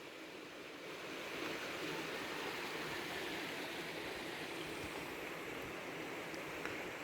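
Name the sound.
river flowing below the village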